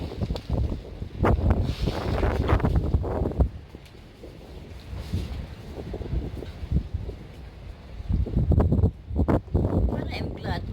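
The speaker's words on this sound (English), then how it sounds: "Look, it's still a strong wind." Strong tropical wind after a typhoon night gusts and roars in bursts against the microphone, loud at the start and again near the end with a calmer stretch between.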